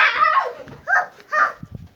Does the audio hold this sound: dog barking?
yes